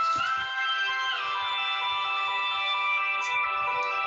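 A mobile phone ringtone plays during a talk, a sustained electronic melody with steady tones that rings continuously and fairly loud for about four seconds, with only faint background sound beneath it.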